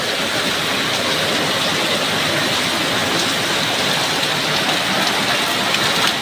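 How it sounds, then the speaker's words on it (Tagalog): A loud, unbroken wash of heavy rain whipped by strong wind during an afternoon thunderstorm, thick and constant from start to finish, no one speaking over it. "So, lakas ng ulan, no?"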